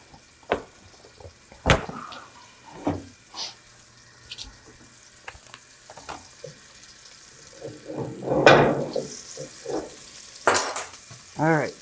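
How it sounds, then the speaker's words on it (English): Butter melting in a pan gives a soft, patchy sizzle alongside scattered clinks and kitchen handling noises, with a louder burst of frying and a short run of tap water toward the end; nobody speaks. "Sounds like the butter is melting."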